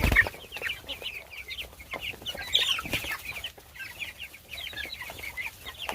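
Cornish cross meat chickens clucking and chattering continuously at close range, a flock of many birds with overlapping short calls and no talk.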